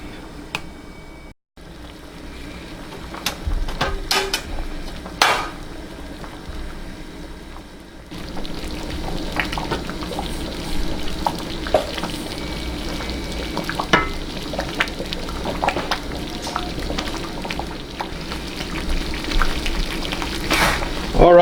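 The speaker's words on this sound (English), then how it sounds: "let's let it cook now for a while" Rice pudding simmering in a pot gives a steady bubbling sizzle, with occasional clinks and stirring scrapes, broken by a brief pause near the start, continuous and fairly close for about twenty seconds with no voices.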